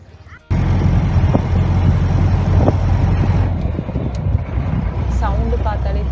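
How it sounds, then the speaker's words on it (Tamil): A jeep on a safari ride in Munnar, Kerala, kicks in suddenly with a loud, close, rough engine drone and bumpy rattling that carry on steadily, while voices talk over the noise. "ஆமா, ஜீப் சஃபாரியில தான் போனோம்."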